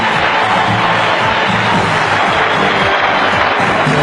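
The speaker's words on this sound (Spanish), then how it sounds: "Increíble cómo la gente aplaudía al dictador charlatán ya extinto, Chávez." A large crowd cheering and applauding Chávez at a rally, a loud dense roar of clapping and voices that holds steady throughout.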